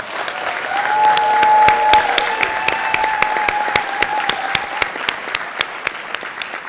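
An audience at a board of education budget hearing claps in steady, evenly spaced applause for a name read aloud, with a sustained musical tone sounding beneath it.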